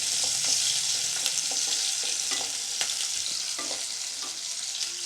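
Chopped onion frying in hot oil sizzles steadily and close, with repeated scraping stirs and light utensil taps throughout.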